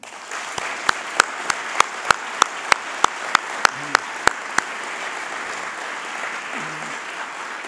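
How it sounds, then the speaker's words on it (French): An audience at a staff gathering claps for retiring faculty members in a run of about a dozen evenly spaced, sharp claps that stops abruptly, leaving a quiet room murmur. "Je vous propose de les applaudir."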